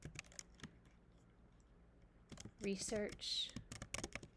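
Rapid keyboard typing on a computer keyboard while entering category labels for a choice board, a quick run of close, crisp key clicks followed by a few more taps, with a voice talking over parts of it.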